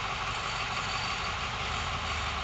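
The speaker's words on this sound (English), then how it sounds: "The gray truck?" A gray truck passes close by with a loud, steady broadband engine and road rumble that holds evenly throughout, with no voices over it.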